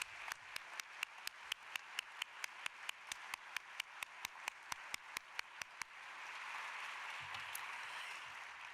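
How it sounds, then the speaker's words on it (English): Steady rhythmic clapping for the volunteers at a plenary session of a conference, individual claps falling in even time for six seconds before breaking into a denser wash of general applause. "Big round of applause for them."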